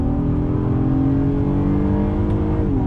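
A 2019 Acura MDX A-Spec SUV pulls hard out of a turn, its engine note climbing steadily and then dropping as the transmission shifts near the end, heard from inside the cabin as a continuous loud drone.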